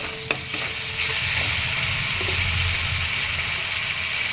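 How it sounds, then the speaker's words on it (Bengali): A spice masala of chili powder, kasuri methi, salt and sugar fries in a pan as a steady sizzle, with a brief clink near the start and a soft low hum underneath. No one speaks. "একেবারে আমি মশলাটা ভালো করে কষিয়ে নেব"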